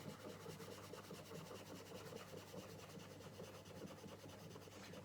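Oil pastel rubbed and blended on paper, making a soft, continuous scratchy rubbing that stays very faint and steady throughout, with no voices.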